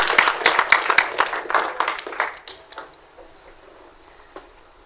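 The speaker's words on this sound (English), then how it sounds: "Can we give them a round of applause, please?" An audience claps at a Diwali celebration with the KZN Blind and Deaf Society in Durban: a close, lively burst of applause that thins out and fades over about three seconds, ending in near quiet with a last stray clap.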